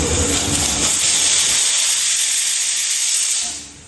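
A pressure cooker vents steam with a loud, continuous hissing whistle while veg biryani cooks, fading out at the end.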